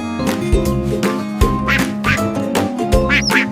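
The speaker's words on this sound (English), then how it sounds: "Quack." A cartoon duck quacks repeatedly, several loud nasal quacks in a quick uneven rhythm over a bright musical background.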